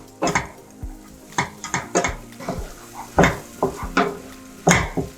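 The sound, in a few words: stirring aromatics in a pan for egg curry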